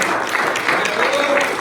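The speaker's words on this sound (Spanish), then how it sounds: "Le puede dar un aplauso al Señor con todo su corazón." A church congregation applauds during a sermon, a steady dense wash of clapping with a voice sounding over it throughout the short stretch.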